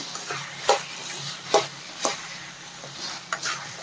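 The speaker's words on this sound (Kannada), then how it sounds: "ಒಂದು ಟೂ ಮಿನಿಟ್ಸು ಫ್ರೈ ಮಾಡ್ಕೋಬೇಕು ಇದನ್ನು" Soya chunks fry in a pan for manchurian, a steady soft sizzle broken by several sharp scrapes and clacks as they are stirred.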